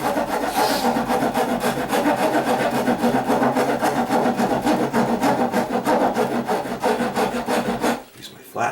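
A rasp shaves the wooden bottom edge of a door in fast, steady rough strokes, close and loud, stopping briefly near the end.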